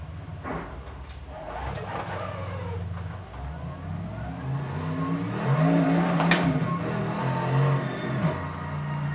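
Simulated mid-engined sports car in a racing video game heard from the first-person view, its engine note rising and falling through revs with shifts, steady and fairly loud throughout, with no talk over it.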